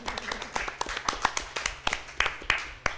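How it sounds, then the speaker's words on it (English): A small audience at a writing presentation claps. The claps are sparse, separate and fairly close, with some voices faintly underneath. "I just want to give everyone a round of applause for that"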